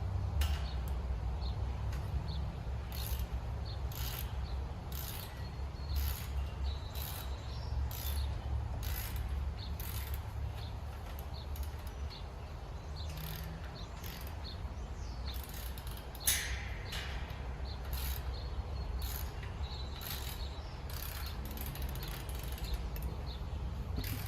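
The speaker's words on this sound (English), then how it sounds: "We're not going to use the ratchet the entire time." A ratchet tightening bolts on a TSC Retriever Lodge expandable dog kennel clicks in quick repeated strokes, close and crisp, over a faint steady background hum with no talking.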